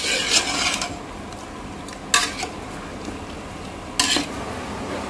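A spoon scrapes and clinks against a metal pot while mutton khichda is stirred and mixed, with soft sliding scrapes and a couple of sharper clanks, close and quiet with no talking.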